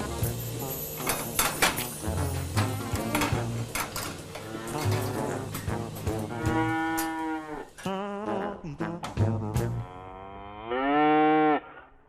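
A calf on a Swiss farm moos several times after a bottle feeding of milk, loud and close, with long drawn-out bellows that end in a strong final call, among clattering farm noises.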